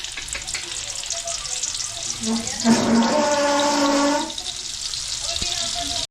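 Onion and garlic sizzle and fry in a hot pan, a steady crackling hiss that swells loudly for a moment midway, with people talking nearby.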